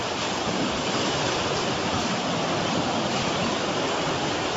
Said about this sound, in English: You just saw the water flowing into the house.